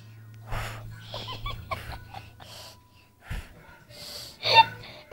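A person imitates a father's snoring with a string of close, raspy snorts, wheezes and gasping breaths in uneven bursts, with quieter pauses in between.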